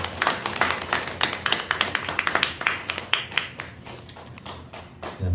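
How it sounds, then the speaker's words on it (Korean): Congregation in a church service clapping in encouragement, a dense burst of many hands applauding with irregular sharp claps that thin out toward the end. "우리 일여전도 회원들이 항상 건강하시라고 우리 격려의 박수"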